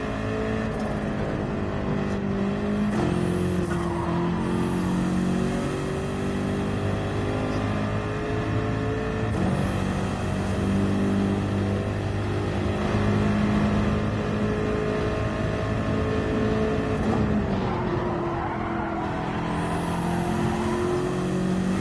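A racing car engine in the video game Gran Turismo 7 roars continuously, revving up and down through gear changes, loud and close with no voices.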